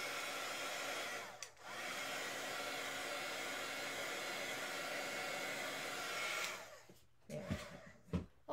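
A hair dryer blows steadily to dry matte medium along a paper edge in a mixed-media craft project, a loud continuous whoosh that runs for several seconds, then cuts off into quieter handling noises.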